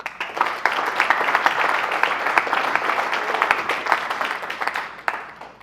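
Audience applause after a talk by a leadership and mental performance coach at a sports academy, a sustained wash of many hands clapping that swells and then fades toward the end.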